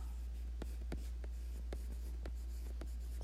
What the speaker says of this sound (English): First, I'm going to just write the words.